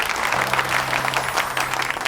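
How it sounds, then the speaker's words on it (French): An audience gives loud, steady applause for newlyweds Purab and Disha, a dense clapping crowd close by with a low tone underneath. "je vous demande de les applaudir très fort"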